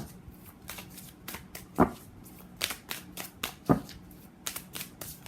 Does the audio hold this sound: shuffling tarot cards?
yes